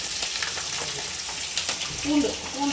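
Vadagam and garlic fry in hot oil for fish kuzhambu, a close steady sizzle with light stirring, and a voice speaking briefly near the end.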